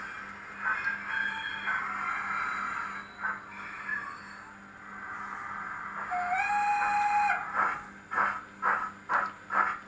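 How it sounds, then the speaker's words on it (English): A Bachmann Ransomes & Rapier 45-ton breakdown crane model in BR early black runs along model railway track, giving a steady motor whine with a rising tonal squeal, then a string of rhythmic clicks near the end. "it demonstrates exactly how this train will run"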